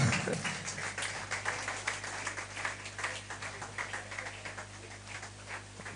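Audience at a conference clapping steadily, a broad continuous patter of many hands that fades slightly toward the end over a constant low hum.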